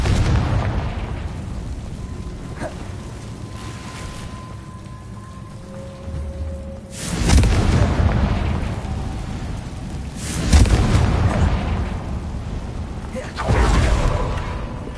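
In Hogwarts Legacy, the Confringo spell goes off in three separate fiery blasts spaced a few seconds apart, each a loud whooshing boom over quieter ambient game sound.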